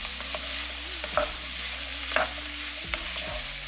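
Vegetables with capsicum and mushroom stir-fried for prawn fried rice over leftover rice, a continuous sizzle broken by several spatula scrapes and clacks against the pan at irregular intervals.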